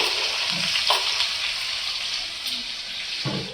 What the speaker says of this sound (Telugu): ఇవి కొద్దిగా ఫ్రై అవ్వగానే సన్నగా తరిగిన ఉల్లిపాయ ముక్కలు